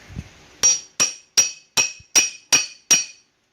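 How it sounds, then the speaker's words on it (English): Seven sharp metallic hammer strikes on a socket in a steady rhythm, each ringing briefly, loud and close, with a faint thud before the first, during front wheel bearing replacement on a 1999 Ford Ranger 2WD. "Then we'll take a hammer."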